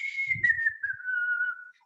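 A person whistling in imitation of a small South African bird's call: a single clear, sustained whistled note that slides slowly downward, with faint low murmurs underneath.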